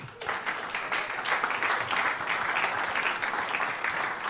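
Steady audience applause at a live large jazz ensemble concert, a dense wash of many hands clapping at even loudness throughout, with no voices over it.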